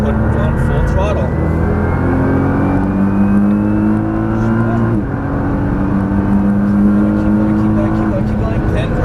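A Nissan GT-R at full throttle on the Las Vegas Motor Speedway track, its engine loud and close, climbing steadily through the revs with a brief dip at a shift, then pulling hard again.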